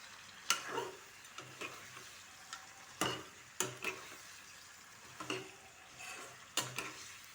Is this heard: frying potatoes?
yes